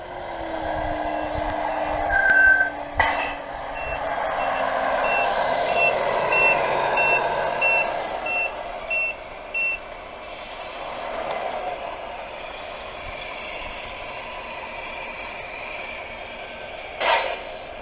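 A Tamiya Scania RC truck sounds a steady series of evenly spaced reversing beeps over the whine of its electric motor, with a few louder thumps and no voices.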